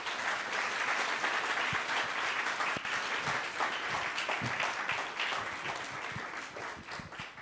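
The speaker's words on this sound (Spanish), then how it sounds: "un fuerte aplauso" A theater audience at a talk gives loud, sustained applause, a thick wash of many hands clapping that fades slightly toward the end.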